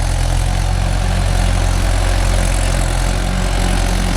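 A Mahindra 415 DI tractor working a 9-tine cultivator in a wet rice field runs with a loud, steady engine drone up close. The heavy, continuous rumble holds constant throughout with no talking.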